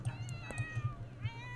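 A cat in The Sims 4 video game meows a couple of times, fairly quiet and close, over soft rhythmic low thumps of background game sound.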